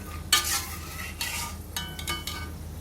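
Almonds roasting in ghee in a pan and stirred with a spoon: scraping strokes come in bursts over a soft, steady sizzle, close and fairly quiet, with no voices.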